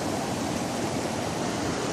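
A creek swollen from days of rain rushes steadily near a trail bridge, giving a continuous, fairly loud broadband roar of flowing water.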